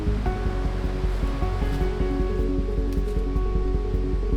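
Creek water rushes steadily past a massive log jam beside a leaning bridge on an Alaska overland route, a loud continuous roar close by with no talk over it.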